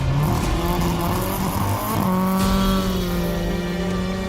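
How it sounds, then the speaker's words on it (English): An old-school Ford Escort rally car drives into a rally stage with lights blazing, its engine droning steadily and shifting pitch as it pulls away, loud and continuous with a rough, busy background. "The old school escorts heading on out there as well, with lights ablaze into stage number 1."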